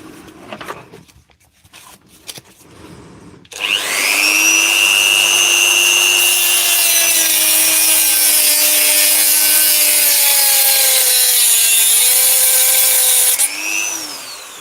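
A Dremel rotary tool, throwing sparks, starts after a few quiet seconds of faint handling noise, then cuts with a loud, sustained high-pitched grinding whine that dips briefly in pitch before it stops and spins down.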